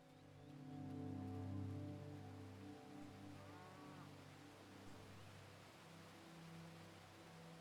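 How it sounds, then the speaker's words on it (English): Cattle low on a ranch in the game Neverwinter Nights: Enhanced Edition. Several long, deep moos overlap and swell, with soft rain-like ambience underneath. The sound is faint overall. "Bunch of cows. There's a ranch."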